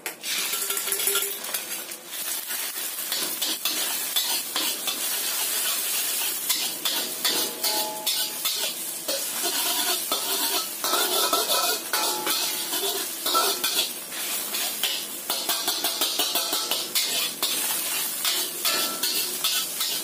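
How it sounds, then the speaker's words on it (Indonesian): Eggs sizzle steadily in hot oil in a pan while a utensil scrambles them in quick, repeated scraping strokes, close and continuous. "Telurnya kita goreng orak-arik."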